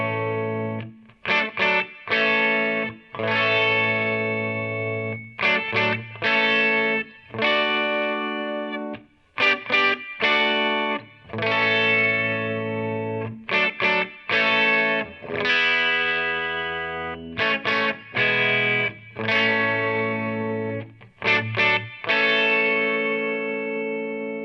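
Electric guitar played through a Quilter MicroPro 200 amp, set chimey and right at the edge of distortion; a loud, steady run of ringing notes and chords with short pauses between phrases, alone with no talk.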